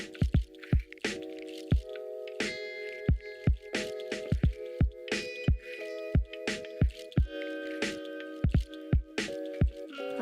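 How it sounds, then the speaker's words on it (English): Thick Mornay sauce poured over cooked macaroni noodles in a pan, with repeated wet squishing plops and drips in an irregular rhythm, close and fairly quiet. "Now we're gonna take our delicious Mornay sauce and pour it over the noodles."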